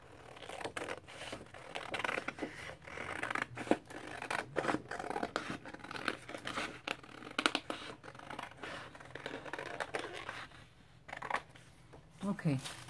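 Scissors cut through blue paper for an art journal page, a run of close, crisp snips and papery rustles over roughly twelve seconds with soft handling sounds between cuts.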